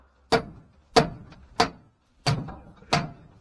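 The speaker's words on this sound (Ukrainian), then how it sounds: "Такий молоточок у мене є ударний. Спробую зараз стукнути по" Five sharp metallic strikes from an impact hammer during repair of a petrol generator's rotor, spaced roughly half a second apart, close and distinct with short ringing decays.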